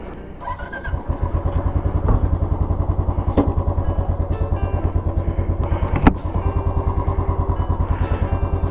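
A motorcycle engine starts and settles into a steady, close idle with a rhythmic chugging pulse and a few clattering knocks, heard at the outset of a mountain ride from Losar toward Manali in Spiti.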